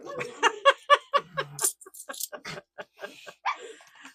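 Dogs playing noisily indoors in a home, a rapid string of short yips and excited vocal bursts that fades into scattered squeaks and huffs.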